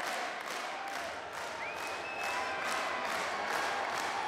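A live audience at the Mr Punjab 2018 grand finale stage show cheers and claps in a steady, dense roar with scattered shouts that holds throughout and swells slightly toward the end, with no speech over it.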